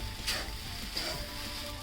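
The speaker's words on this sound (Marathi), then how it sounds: "हा साबुदाना आहे ना नीट व्यवस्थित परतून घेते आता" Sabudana sautéing in an iron kadhai, a faint, steady sizzle with a couple of brief scraping stirs.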